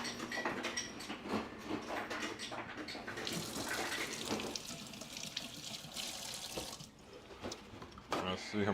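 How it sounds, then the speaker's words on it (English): Running tap water rinses produce, likely apples, in a kitchen sink during meal prep, a steady splashing hiss with clinks and shifting under light background talk. "I guess I should give them a little rinse first"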